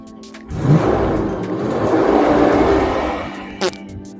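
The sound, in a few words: car engine revving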